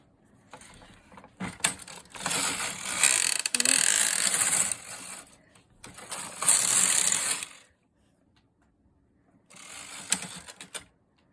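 A Brother standard-gauge knitting machine carriage runs across the bed knitting a punchcard lace pattern, giving three loud rattling, ratcheting passes separated by pauses, with a brief voice between them.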